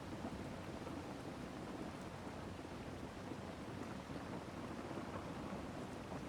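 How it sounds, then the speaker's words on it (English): Steady rain with low rumbling thunder outdoors on a farm, a continuous even wash of noise with no distinct claps, fairly faint and distant, with no voices. "It's raining."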